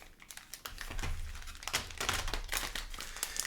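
Magic: The Gathering trading cards being shuffled by hand, a close, quiet run of riffling and crinkly snapping bursts that comes in uneven clusters with no voices.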